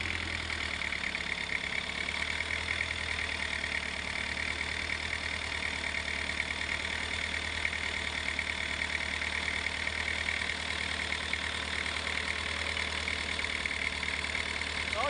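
Isuzu D4DE 2.955 L diesel engine idling steadily, a continuous close rumble with a constant mechanical clatter throughout, no talking.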